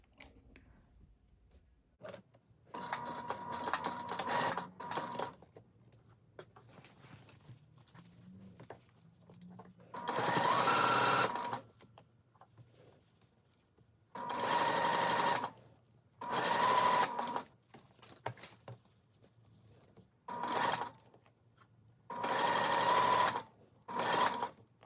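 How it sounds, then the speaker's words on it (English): A sewing machine stitches a seam in seersucker dress fabric in several bursts of steady whirring, each a few seconds long, separated by quiet pauses with faint handling noises, heard close. "And I'm going to start sewing."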